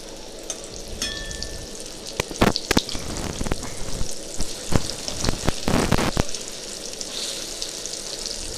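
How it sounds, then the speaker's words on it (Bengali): Vegetarian mock fish pieces fry in hot oil with a continuous sizzle, broken by sharp clinks and scrapes as they are turned and stirred, loud and close. "তো সব মাছগুলো এইভাবেই ভেজে নেব।"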